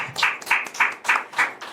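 An audience at a Hindi poetry gathering claps in a brisk, even rhythm of about six close, loud claps, with no talk over them.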